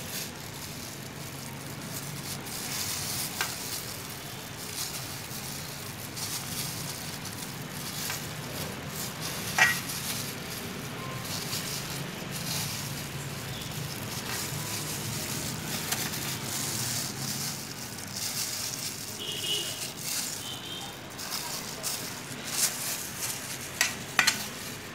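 Steamed rice flour cake frying with egg in a pan, a steady sizzle and crackle with occasional stirring and scraping clinks, heard up close.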